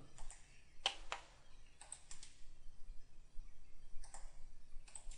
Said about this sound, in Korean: 라이트 클릭 붙여넣겠습니다. 더블 클릭하겠습니다.